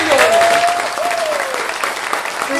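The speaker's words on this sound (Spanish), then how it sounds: "¡El aplauso para ellos!" Loud audience applause at a festive community celebration before a folk music recital, dense steady clapping throughout with a few whistle-like tones rising over it.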